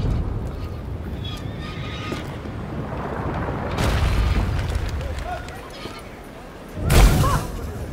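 A cannon in A Plague Tale Requiem, a medieval-setting game, booms once late as a single deep, loud blast, after a stretch of low ambient rumble and a softer swell.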